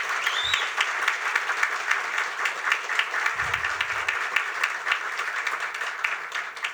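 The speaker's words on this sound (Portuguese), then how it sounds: "Eu peço palmas para os dois também." Audience applause at an academic induction ceremony in Brazil, a lively and fairly close burst of many hands clapping that continues steadily, with a few faint voices underneath.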